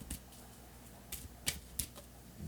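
A tarot card is drawn from the deck, heard as a few sharp, quiet clicks and snaps of card stock spaced irregularly over a couple of seconds, close by with no talk.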